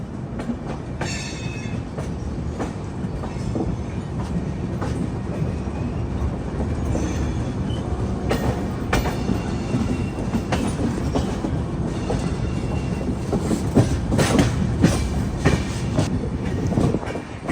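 A passenger train runs steadily along the Bilaspur to Raipur line, its continuous rumble and clickety-clack of wheels over rail joints filling the whole stretch, with a few sharper metallic clanks near the end.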